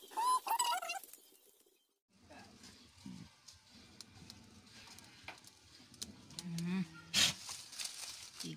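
A brooding hen clucks softly near a farmyard, with short low clucks scattered through the stretch under and between people talking, plus a brief sharp high call toward the end.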